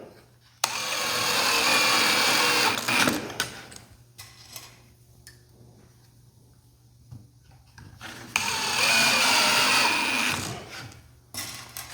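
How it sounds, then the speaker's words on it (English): Pieces being driven down onto a table saw taper and jointer jig with a power screwdriver, two sustained whirring bursts several seconds long, separated by quieter handling clicks and a near-silent pause. "So we're just going to attach these now. Just simply screw them down."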